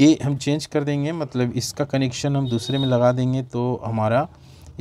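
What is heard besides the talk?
No everyday noise stands out behind the speech.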